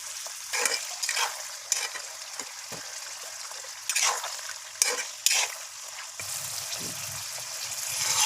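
Mutton thigh meat fries in oil in a karahi, giving a steady sizzle broken by several louder bursts of scraping and stirring. The close hiss swells and fades as the pieces are turned.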